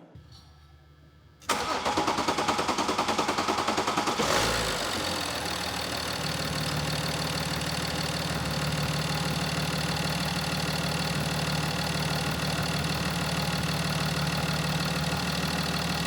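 A BMW X5 engine, just fitted with a new Bosch CP4 high-pressure fuel pump, cranks briefly after a quiet moment, then catches and settles into a loud, steady idle close by, with no voices.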